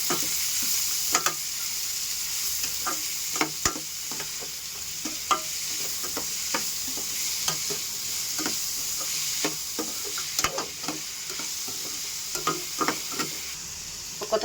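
Onions with curry leaves and a little salt are sautéed in a hot pan, giving a steady soft sizzle with repeated scraping and clicking of a spoon stirring throughout, close and alone.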